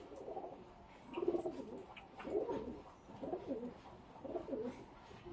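A breeding pair of Imamdeen Kamagar pigeons in Faisalabad coo softly in repeated, rolling phrases, faint and steady against a low background murmur.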